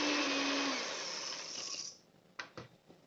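An electric hand beater whips a chocolate mousse mixture with sugar, a loud steady whir that cuts off partway through, followed by a few sharp knocks of the beaters against the bowl.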